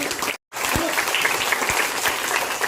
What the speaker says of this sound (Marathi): चला जोरदार टाळ्या या सर्वांसाठी